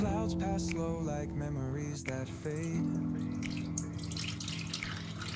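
Warm water runs from a tap into a container, a steady splashing stream beneath background music with a sung melody.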